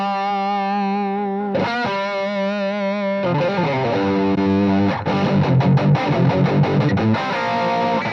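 Distorted Les Paul electric guitar tone with no reverb, thick sustained chords with gritty harmonics, moving into faster rhythmic strumming, loud and upfront.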